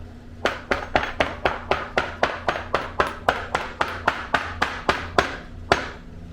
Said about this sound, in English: I'm going to beat it with a hammer a little bit just to make sure it's good and stuck.